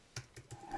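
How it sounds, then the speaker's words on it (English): Three soft clicks of computer keyboard keys, evenly spaced and faint, with no voices. "And I am holding my Shift key down"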